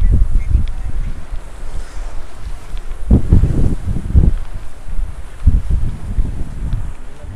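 Strong gusts of Hurricane Fiona in Bermuda buffeting the microphone, loud roaring bursts that rise and fall in waves with no talk.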